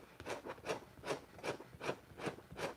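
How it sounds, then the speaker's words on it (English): A hatchet scrapes across wood in seven even, rhythmic strokes, each a rasping rub, close and fairly quiet, with no voices. "I like to scrape with this hatchet here"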